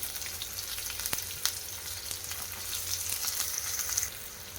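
Mustard seeds, cumin, green chillies and onion sizzle steadily in hot oil in a home kitchen, a quiet continuous crackle with a few sharper pops and no talking.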